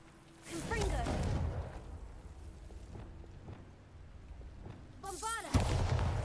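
A fiery Confringo spell blast in the Hogwarts Legacy video game: a booming, crackling explosion, then rumbling debris and a second burst near the end, heard under a voice.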